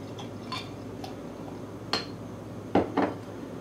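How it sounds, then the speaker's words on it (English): A bottle of Terrapin Wake-N-Bake coffee oatmeal stout is opened and poured into a glass, with a few sharp glassy clinks and taps against a quiet background hiss. "get it cracked open into a glass and see what it's all about"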